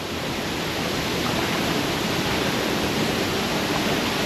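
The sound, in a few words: waterfall in the Bali jungle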